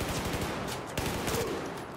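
Rapid automatic gunfire from a powerful weapon in Battlefield 4, a dense run of sharp cracking shots in quick succession, loud and close, with no talk over it.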